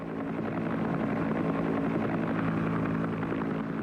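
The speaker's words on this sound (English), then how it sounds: "a wounded man could expect to be picked up by medevac helicopter in less than half an hour." A military medevac helicopter from the Vietnam War flies steadily nearby, its loud, continuous rotor thump and engine drone holding constant throughout without pause.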